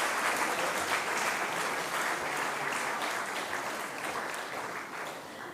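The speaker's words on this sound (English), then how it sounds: "May I please request the audience to please cheer these people?" An audience cheers on award recipients at an Independence Day ceremony with steady, dense applause that fills the room, loud and continuous and tapering slightly near the end.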